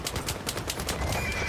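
A horse whinnies in Battlefield 1 beta Conquest gameplay, with rapid rhythmic hoofbeats and distant gunfire filling the short clip, no talk.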